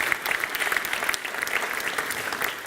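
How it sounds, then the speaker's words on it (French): A conference audience claps for a speaker, a dense, steady round of applause from a crowd filling the room for the whole stretch. "On peut l'applaudir s'il vous plaît"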